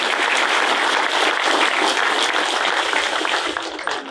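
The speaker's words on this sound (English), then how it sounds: "Let's give a round of applause to Jayson" A dense audience breaks into steady, loud applause after a talk at a pizza gathering honouring baseball writer Jayson Stark. The clapping holds evenly for the whole stretch and tapers slightly at the end.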